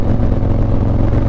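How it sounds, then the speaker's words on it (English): A motorcycle fitted with a Trask exhaust gives a loud, deep, throaty engine roar that holds steady for a brief moment up close. "The Trask exhaust that I've put on sounds"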